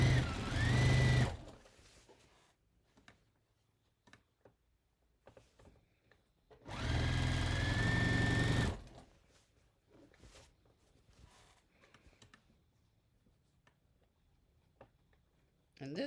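A sewing machine stitching a criss cross apron whirs in two close, loud runs of about a second and two seconds, separated by quiet gaps with small handling clicks and rustles of fabric.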